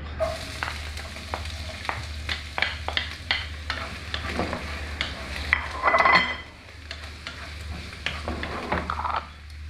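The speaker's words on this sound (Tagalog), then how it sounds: "Ayan, nag-brown na yung ating onion." Onion browns in a hot pan with a steady sizzle while a utensil stirs and scrapes in repeated clinks against the metal, a busier burst of clatter midway, no talking.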